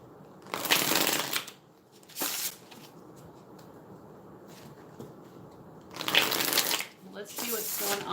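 Tarot cards are shuffled in several quick riffling bursts, with quieter rustling and handling sounds between them; no talking.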